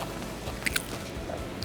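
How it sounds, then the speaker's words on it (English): Someone bites into a migas taco in a crispy tortilla, giving a couple of quick, close crunches. A soft chewing squish follows in a quiet moment without speech. "I don't know if you heard that crunch."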